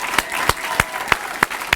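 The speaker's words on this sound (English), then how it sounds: "let's just get one more round of applause for all of the students who are up here and all the rest of you" Applause from a school Founders' Night audience honoring students on stage, heard as a broad wash of clapping with several sharper individual claps standing out at regular intervals.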